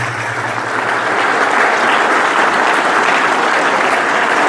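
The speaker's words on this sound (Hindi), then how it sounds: "जोरदार तालियां बजा दो आप एक बार" Audience at a school event applauds loudly after a talk on mobile phone use and mental health, a continuous wash of clapping that builds slightly and stays strong and close throughout.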